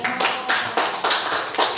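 Rhythmic hand clapping at a school speech, about seven crisp, evenly spaced claps from a group, loud and close with no talk over them.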